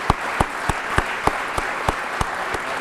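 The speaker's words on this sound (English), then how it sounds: "Could we have one more round of applause for all of our inductees this evening?" Audience applause for inductees at an evening ceremony, a continuous bed of crowd clapping marked by a regular, rhythmic run of sharp, prominent claps close by.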